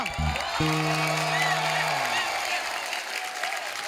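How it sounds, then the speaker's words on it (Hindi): A television comedy studio audience breaks into applause and cheering, a broad, sustained roar of clapping with a few whoops. A brief musical sting sounds at the start. "जोरदार तालियां."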